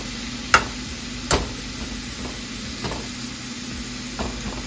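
A spoon scrapes and knocks against a kadhai while coconut burfi mixture is stirred, a few distinct sharp strokes spaced out over a soft steady hiss, fairly quiet and with no voices.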